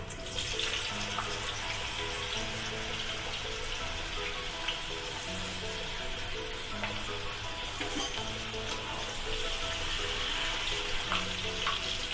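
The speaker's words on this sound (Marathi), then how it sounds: "पहिल्यांदा मी बटाटा तळून घेणार आहे।" Potato pieces fry in hot oil for a vegetable biryani, a steady, dense sizzle holding evenly throughout with a low hum beneath and no voices.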